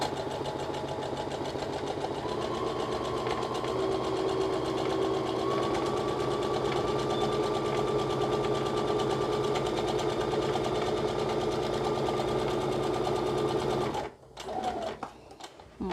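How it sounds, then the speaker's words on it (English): A sewing machine sews a straight line on fabric, a continuous even motor hum with rapid needle rhythm for about fourteen seconds, then stopping with a few clunks and rustles. "Lower the presser foot and start sewing."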